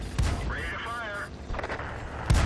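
A tank cannon in World of Tanks fires two sharp, heavy booms, one early and one near the end, with a short electronic warble between them and no talk.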